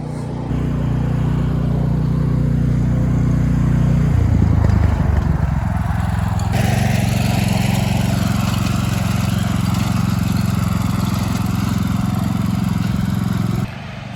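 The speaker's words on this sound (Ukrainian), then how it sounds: "Вибачаюся за цей грохки, там мотоблок їде." A walk-behind tractor (motoblock) engine rumbles loud and close as it passes on a cold day, a continuous heavy chugging drone whose pitch shifts as it moves by.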